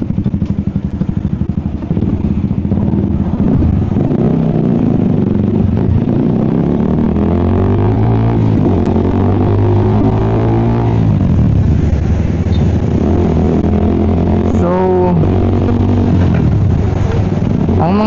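Motorcycle with newly replaced tyres ridden on the road, its engine droning loud and close with shifting revs that rise and fall through gear changes, wind buffeting throughout.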